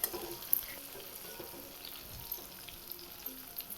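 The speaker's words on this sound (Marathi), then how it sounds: "मस्त बघा आपलं ही कारलं तेलात तळून फ्राय झालेला आहे" Bitter gourd (karela) fries in oil in a pan with a steady, soft sizzle and faint crackle, plus a few sharper pops and utensil ticks, close and alone without talk.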